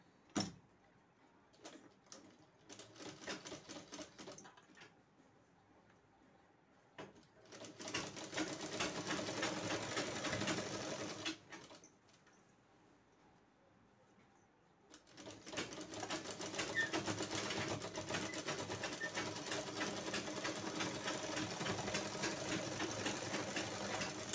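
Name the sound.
sewing machine stitching a waistband onto a blouse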